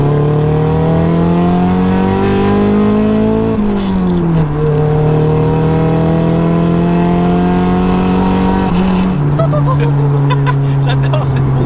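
A Nissan Silvia 200SX engine droning steadily while driving, its pitch climbing then dropping with gear changes, loud and close from inside the car, with voices talking over it.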